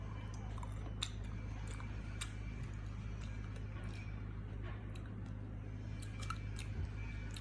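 Tanghulu, candied fruit on a stick, chewed close to the mic with soft wet squishing and faint crunchy clicks over a constant low hum.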